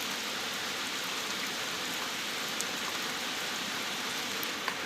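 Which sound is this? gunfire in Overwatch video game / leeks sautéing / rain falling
rain falling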